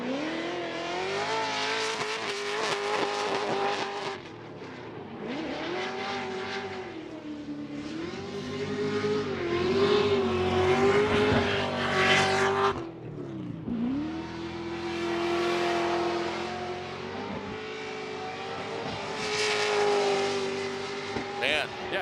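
A drift car in a Formula Drift ProSpec event roars through repeated high revs, the pitch rising and dropping with gear changes, tires squealing, loud and close under a commentator's talk.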